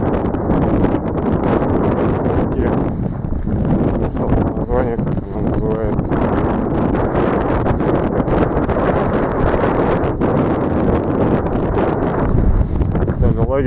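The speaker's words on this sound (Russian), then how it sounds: "Ветер чувствуется боковой сильный." Strong side wind outdoors by the Zheleznitsa river in early October, buffeting the microphone as a continuous heavy roar and rumble throughout, with some rustling mixed in.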